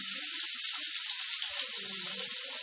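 Onions hitting hot oil in a pan after mustard seeds and cinnamon have crackled, giving a steady, loud hissing sizzle that runs without a break.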